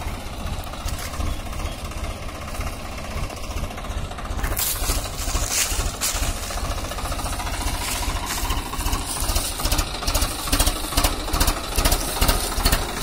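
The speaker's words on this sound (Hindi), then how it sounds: "किसान भाइयों, स्वराज 744 XT ट्रैक्टर हमारे वाला स्वराज।" Swaraj 744 XT tractor engine running steadily with a trailer loaded with wet manure, a loud continuous diesel rumble with rapid knocking pulses that grows rougher and louder partway through.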